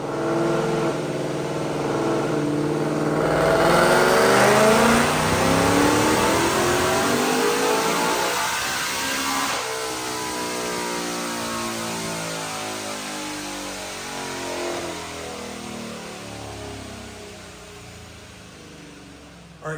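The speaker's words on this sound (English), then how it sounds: "Check out this dyno pull." A 2025 Mustang GT automatic with an ESS G3 supercharger and long-tube headers revs hard on a dyno during a full pull, the engine rising steadily and then winding down over about twenty seconds, loud and close throughout.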